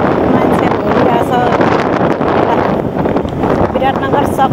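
Strong wind buffets the microphone at an airport in Biratnagar after a flight from Kathmandu, a loud, steady rushing roar throughout with a voice talking over it.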